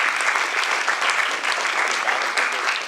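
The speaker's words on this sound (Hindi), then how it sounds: "इनके लिए तो पुरजोर ताली बजाइए।" A theatre audience gives vigorous applause to the performers after a Hindi staging of A Midsummer Night's Dream, dense even clapping sustained throughout.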